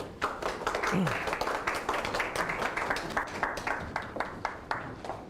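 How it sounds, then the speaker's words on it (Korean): Applause from a startup forum audience welcoming Professor Jeong Ji-hoon to the stage, a moderate crowd clapping with distinct individual hand claps and a brief vocal sound early on. "여러분, 정지훈 교수님을 큰 박수로 맞이해 주시기 바랍니다."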